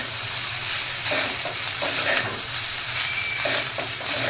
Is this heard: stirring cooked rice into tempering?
yes